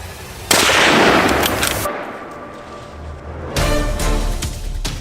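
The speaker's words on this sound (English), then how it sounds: "The gunshot tears through the silent air, and the prey collapses" A hunting rifle fires during a wild boar hunt, producing a sharp, loud crack that trails into a rolling echo. A second loud burst of noise follows a few seconds later.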